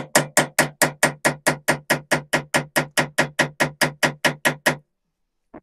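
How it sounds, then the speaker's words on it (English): Rapid, evenly spaced metallic taps from a small hammer on parts of a 1921 Lister stationary engine, about twenty quick knocks in a steady rhythm, then silence. "Look how small my hammer is."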